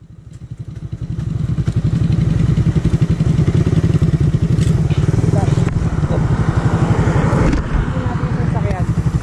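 A Suzuki Raider 150 Fi motorcycle engine idles and revs close by with a rapid, throbbing putter, loud and continuous throughout.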